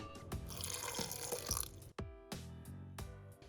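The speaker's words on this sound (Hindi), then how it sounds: "बिल्कुल थोड़ा सा पानी ऐड करेंगे।" A small splash of water is poured over onions and tomatoes in a blender jar, giving a close, brief trickling and dripping with a short pause partway through.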